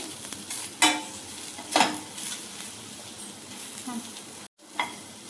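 Dates are lightly sautéed in a pan as a sweetener for protein laddoos, a soft sizzle with a few scraping stirs and spatula knocks, one brief gap near the end.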